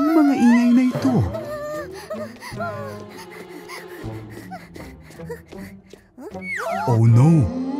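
Cartoon toy ghosts wail in long, swooping, moaning tones, rising and falling in loud repeated cries, with a big wavering howl near the end.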